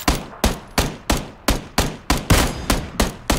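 M16 rifle on burst fire in PUBG: ten loud, punchy shots in a steady rapid rhythm, close and dominant, each with a brief echoing tail and no talking over them.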